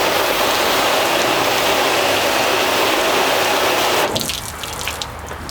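Water hose spray rinsing a car's painted panel after a spray sealant application, a steady loud hiss of water hitting the surface that cuts off near the end, leaving quieter dripping and splashing.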